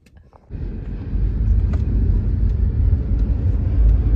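A car moving under steady, close engine rumble and road noise. The drive starts after a quieter half second and continues without a break.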